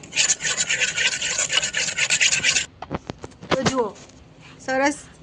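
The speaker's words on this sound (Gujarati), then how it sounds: "બે ચમચી બેસનમાં આપણે થોડી છાશ ઉમેરીશું અને મિક્સ કરી લઈશું" Gram flour whisked with buttermilk in a bowl gives a brisk, close scraping rasp for a few seconds, then stops and gives way to a few short vocal sounds and clinks.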